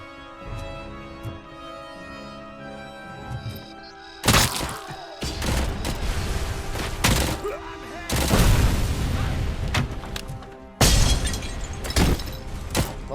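Several heavy explosions boom one after another in the video game RoboCop: Rogue City, each a sudden loud blast trailing into crackling rumble over a steady background hum.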